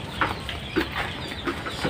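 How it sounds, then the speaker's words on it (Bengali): Chickens cluck inside a poultry shed, several short clucks spaced through the moment over a low, steady background hum, fairly close and clear with no one speaking. "আমি বর্তমানে আছি আমার পেন্সি মুরগির শেডে"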